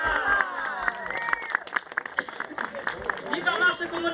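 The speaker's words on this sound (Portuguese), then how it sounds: "Uma forte salva de palmas!" Crowd applause at a Santo Antônio bonfire community festival in Ibitipoca, a dense wash of clapping mixed with cheering voices and babble, steady and fairly close throughout.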